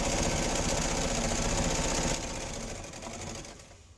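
A sewing machine runs steadily while stitching fabric for an envelope, a loud, fast, even mechanical whirr up close that slows and fades over its last two seconds, with no voice.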